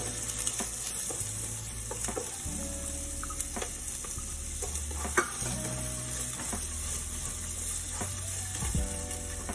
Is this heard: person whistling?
no